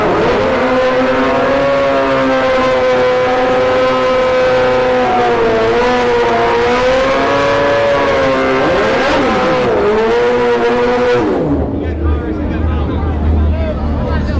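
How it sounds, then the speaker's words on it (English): Kawasaki ZX14 and Suzuki Busa nitrous drag bikes at a no-prep drag strip, engines roaring loud and sustained with rising, shifting pitch as they run down the track, then cutting off abruptly to quieter background rumble. "it's a ZX14 on the right over here with the purple wheels going up against this Busa"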